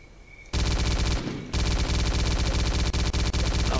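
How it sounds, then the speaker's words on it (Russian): Upgraded automatic weapon in the video game S.T.A.L.K.E.R. Clear Sky fires a loud, sustained burst, pauses briefly, then resumes rapid continuous fire. "Давайте проверим на более дальней дистанции, как он стреляет."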